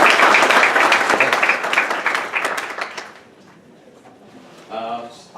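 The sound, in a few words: audience applause for a speaker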